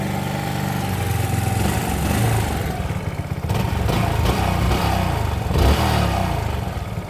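Yamaha YBR motorcycle engine idling steadily on its own at close range, a continuous low putter with light mechanical clatter and faint blips throughout.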